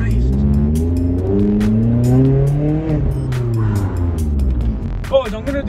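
A car fitted with a Cobra sports exhaust with the back box deleted drones loudly from the cabin at low road speed, its pitch climbing and settling, with a few sharp clicks near the end.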